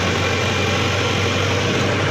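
Swaraj 735 tractor engine idling steadily with a low, constant diesel rumble and hum, close by and continuous with no speech.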